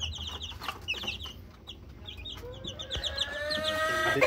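A flock of 12-day-old Miner blue x McLean chicks peeps and chirps in a rapid, overlapping chorus, growing busier and louder toward the end over a low background hum.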